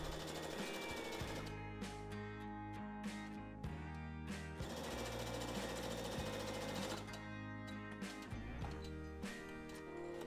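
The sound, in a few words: sewing machine stitching along fabric edge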